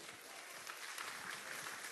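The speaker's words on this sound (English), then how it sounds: "round of applause" Faint applause from a conference audience, a brief soft scattering of clapping heard at a distance.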